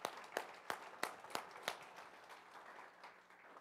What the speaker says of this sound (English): Would you just give him a hand clap of praise?